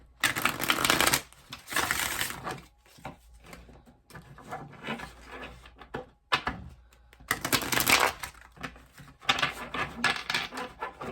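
Tarot cards are shuffled and riffled in several bursts, rasping and clattering up close, separated by short pauses.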